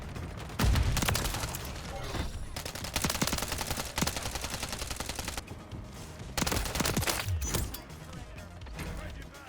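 Striker shotgun in Warzone firing repeatedly in rapid succession, loud booming shots in quick bursts with game sounds, a player talking over them.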